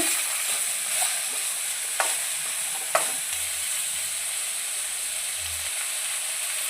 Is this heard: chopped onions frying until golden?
yes